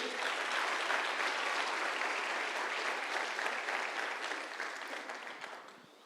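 A church congregation applauds steadily at a worship service honoring Jesus Christ, a dense, even wash of clapping that holds for several seconds before tapering off toward the end.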